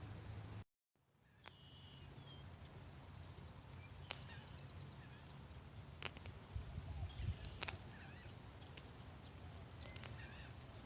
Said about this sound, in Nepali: चराहरू कस्तो मजाले कराएको सुनेर मलाई त बोल्नै मन लागेन